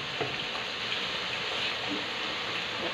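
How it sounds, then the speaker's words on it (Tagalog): Carrots fry in hot oil for a Filipino beef caldereta, making a constant, even sizzle with a bright hiss, heard close up and alone, with no voices. "Pati po yung carrots natin, ipiprito na rin natin yan."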